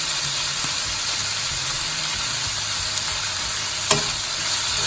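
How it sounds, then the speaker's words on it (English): Peppers and carrots stir-fry in a hot pan for chicken fried rice, a steady close sizzle with faint stirring scrapes and an occasional clink. "I'm going to add the peppers and carrots."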